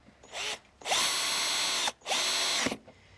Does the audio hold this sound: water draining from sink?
no